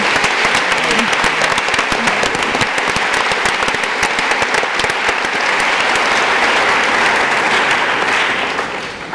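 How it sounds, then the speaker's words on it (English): A large university lecture audience gives the speakers a loud, sustained round of applause, a thick continuous roar of clapping that eases slightly at the very end. "Let's give them another round of applause."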